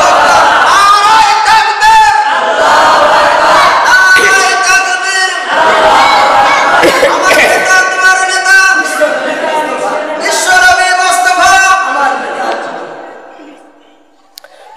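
A crowd at a Bengali Eid-e-Miladunnabi religious sermon shouting Allahu Akbar in loud, repeated chanted waves of massed voices, fading out toward the end.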